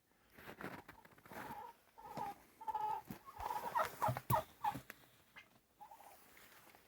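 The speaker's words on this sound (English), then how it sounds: "You can hear Tom already making his noise because he knows that I'm on my way" Turkey tom gobbling in bursts amid chicken clucks and chatter at a farm chicken coop in the morning, moderately loud and close, with several repeated calls through the middle.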